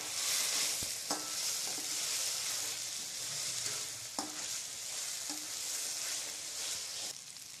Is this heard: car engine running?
no